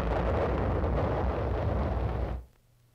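Korean War artillery firing high explosive shells, a continuous loud roaring blast of noise lasting over two seconds before cutting off abruptly to near silence.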